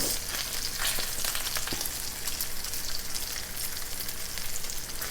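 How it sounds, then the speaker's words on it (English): Bacon frying in a pan for breakfast alongside eggs, a dense, steady crackling sizzle that stays loud and even throughout with no voices. "And bacon cooks up so fast."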